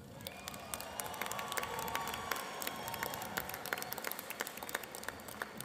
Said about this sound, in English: Let's pause and give all of the seniors a round of applause for their academic achievements